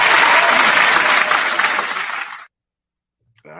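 A crowd applauds at a live DJ mixshow, loud and dense clapping for over two seconds that cuts off abruptly into silence, followed by a voice beginning to speak.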